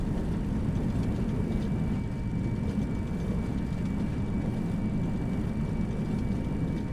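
An airliner rolls out after landing in a flight simulator game, its engines in reverse thrust giving a steady low rumbling roar with a rattling texture, continuous and without talk.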